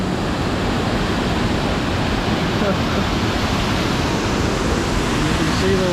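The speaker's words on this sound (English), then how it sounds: "Oh my, the river is ripping." A swollen river rushes and churns in the rain near Hopewell Rocks on the Bay of Fundy, a loud, unbroken roar of flowing water with a small waterfall nearby.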